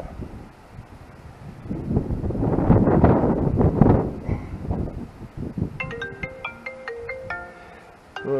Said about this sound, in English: Oh darn phone.